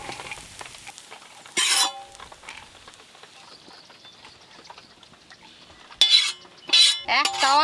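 Egg chow mein stir-fried in a pan, with sharp metal scraping and clanking of a spatula against the pan in a few bursts, between quieter sizzling stretches.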